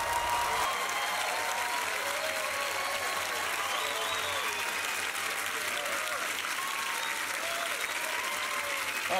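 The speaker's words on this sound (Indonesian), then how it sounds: "kita kasih tepuk tangan buat Putri" Sustained applause from a talent-show audience in Indonesia for an eight-year-old girl about to sing, dense steady clapping filling the hall with a few cheers mixed in, continuing loudly throughout.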